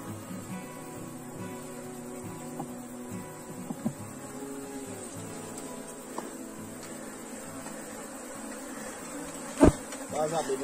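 Bees buzz softly and continuously close by, a low droning hum with occasional faint knocks and a sharp bump near the end.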